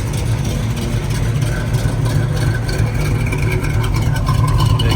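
A cammed V8 in a classic Pontiac Grand Prix idles with a lumpy, rhythmic chop from a freshly fixed exhaust, loud and close with no one talking.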